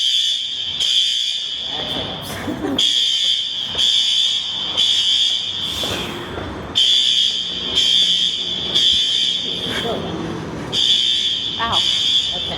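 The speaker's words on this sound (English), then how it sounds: "I guess some kid pulled fire thing by their stairs. You can still hear it" A building fire alarm in Philadelphia, pulled by a kid, sounds as a loud, piercing electronic tone pulsing in long repeated bursts, while people talk over and around it.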